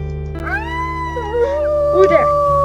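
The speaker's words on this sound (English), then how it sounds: "Well, Star howled." A wolf howls in the video game Wolf Quest 3: a long, clear, rising then sustained tonal howl with a second voice joining, close and loud over a steady game background hum.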